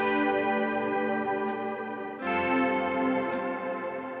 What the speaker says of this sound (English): If I turn it off, it'll sound like this,